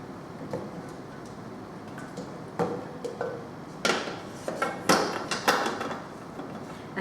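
A spatula scrapes coconut bliss ball mixture down the side of a bowl, giving a few sharp close taps and scrapes that grow more frequent toward the end, over a quiet background.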